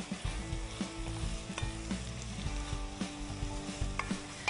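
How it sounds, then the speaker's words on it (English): A spoon stirs tomato marinara sauce in a cooking pot, giving steady scraping and sloshing strokes with a soft sizzle from the heat beneath, close up and alone. "Couple last stirs."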